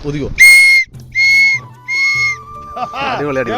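Three short, shrill whistle blasts, loud and close, evenly spaced, followed by a lower steady tone and a burst of voices, at a pedal boat ride.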